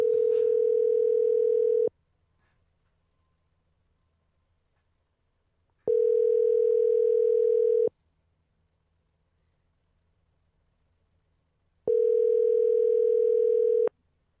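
A telephone rings while a cell number is being dialled: three steady, evenly spaced two-second ringback tones separated by long silent gaps, clear and loud, with no talk.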